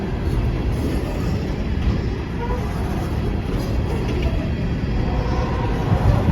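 Empty BNSF coal train cars roll past in a continuous, dense rumble with steady low-end roar and faint metallic rattling, loud and unbroken throughout without distinct clanks standing out.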